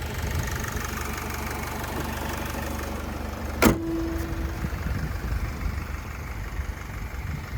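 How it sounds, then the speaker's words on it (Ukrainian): A 2013 Opel Vivaro 2.0 diesel passenger van idling, a steady even engine hum throughout with one sharp click partway through, heard close with no talking. "така робота мотора."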